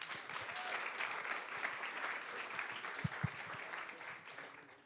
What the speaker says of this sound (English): a round of applause, please, for Jasper and Mona